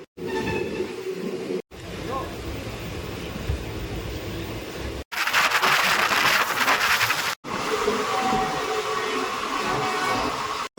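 Steady rumble and rattle of the Kolkata–Balurghat Tebhaga Express from inside a passenger carriage, with voices speaking over it and a brief louder roaring stretch midway.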